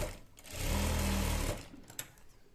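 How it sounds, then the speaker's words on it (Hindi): Sewing machine stitching a child's salwar, running in a single steady, close whir for under a second before stopping, followed by faint handling clicks. "डबल करेंगे और फिर 1 इंची के करीब छोड़ते हुए फिर से सिलेंगे"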